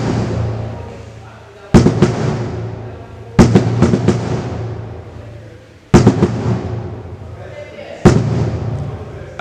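Marching bass drums strike loud, booming accents at four spaced points, each ringing out and decaying, with a dense rumbling texture in between that suggests snare rolls. A voice may be talking underneath.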